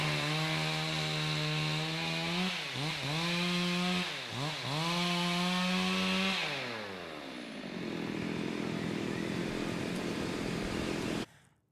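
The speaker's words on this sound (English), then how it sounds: "We're hearing a chainsaw going on in the background, trees swaying, which implies they're being cut down." A chainsaw cutting trees drones steadily at a distance, its engine pitch dipping and rising several times as it bites into the wood, then falls to a rougher idle before cutting off at the end.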